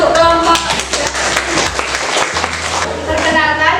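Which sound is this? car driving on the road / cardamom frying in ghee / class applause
class applause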